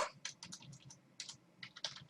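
Quick bursts of keystrokes clatter on a computer keyboard, close and fairly quiet, in short irregular runs with brief pauses.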